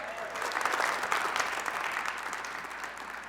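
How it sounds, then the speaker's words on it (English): An audience at an alumni awards night applauds steadily, a dense, even wash of clapping filling the room and tapering slightly by the end. "Give yourselves a big round of applause."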